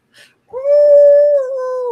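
A human voice imitates a beagle's long howling bark, a single loud, sustained drawn-out tone held for over a second after a brief soft onset.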